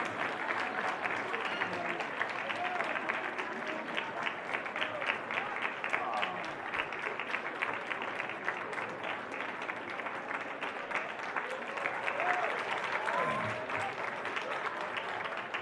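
Schoolchildren at JP Memorial Public School in Gonda give a warm welcome with sustained, even applause from a large group, a steady wash of many hands with faint voices beneath.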